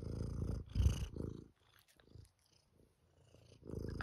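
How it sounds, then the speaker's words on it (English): Soft, close rhythmic purring in slow pulses, fading for a moment before returning, fairly quiet overall. "getting cat licks and some nice purring."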